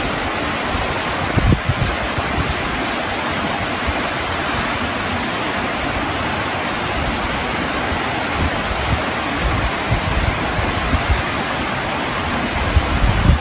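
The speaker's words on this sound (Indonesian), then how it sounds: "Ini di bawah ini sungainya." Water flows below inside Kiskendo cave in Kendal, a steady broadband rush like a small river or waterfall that holds evenly throughout, fairly loud and continuous, with no talk.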